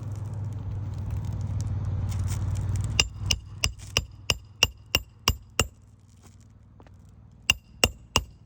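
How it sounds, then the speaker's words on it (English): A hammer drives nails during a repair on a granule-coated surface: about a dozen sharp, evenly spaced close strikes, then a brief pause and a few more, following a stretch of steady low rumbling noise. "See all the granules jumping whenever I'm hammering."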